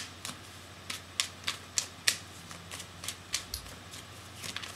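Tarot cards being shuffled by hand: a quiet run of crisp, papery flicks and taps that come in a loose, irregular rhythm, close up, with no talking.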